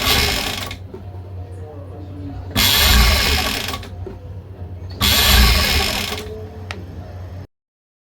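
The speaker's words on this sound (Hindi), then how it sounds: "हमने ऊपर वाले साइड पे एक कच्ची सिलाई लगा लेनी है" A sewing machine runs a basting stitch along an angrakha neck in three short bursts, loud and close, separated by quieter pauses before falling silent at the end.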